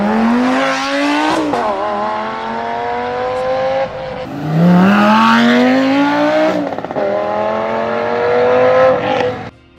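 Lamborghini Aventador with a 5.2-liter V10 engine revving loudly and close, with rising harmonic sweeps as it climbs through several revs, dropping and climbing again across the run with no talk.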